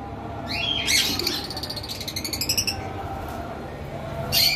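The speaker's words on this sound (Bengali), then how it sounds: "ভিউয়ার্স এখানে দেখতে পারতেছেন একটা পেয়ার অ্যালবিনো লাভবার্ড রয়েছে" A pair of albino lovebirds gives a few close, bright chirps and short squawky calls in bursts, with a steady low hum of background noise beneath and no talking.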